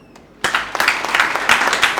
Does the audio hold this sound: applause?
yes